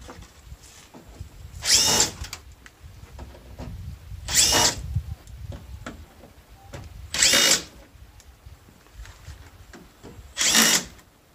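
A power driver backs Torx screws out of a Chevrolet Colorado grille in four separate short whirring bursts, each about a second long and evenly spaced, with quiet handling noises between them.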